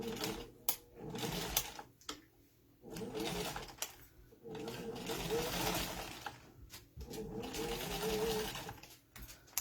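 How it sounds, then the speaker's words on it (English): A sewing machine stitches vinyl in bursts of rapid mechanical chatter, stopping and starting several times with quiet gaps between runs, close and fairly soft. "going to sew it across the top, down the bottom, or down the side, and down across the bottom"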